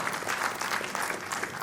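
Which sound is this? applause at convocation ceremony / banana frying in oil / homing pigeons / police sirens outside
applause at convocation ceremony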